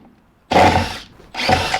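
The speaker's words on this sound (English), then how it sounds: "we're going to put a screw in the front to attach it" A power drill drives a Phillips screw into the front of a wooden bluebird box, whirring in two close, loud bursts separated by a short pause.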